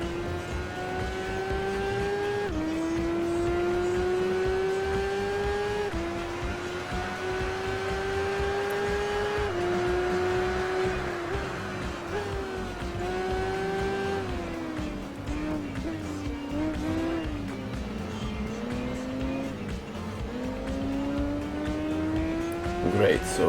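Motorcycle racing in the PS2 game Tourist Trophy: a steady, high engine whine climbs through the gears, dropping at each shift and again when braking into corners, running continuously with talk over it.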